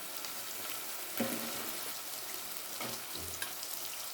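Steady sizzling of onions and tomatoes frying in a pan, with a few soft stirring clinks and scrapes; no talking.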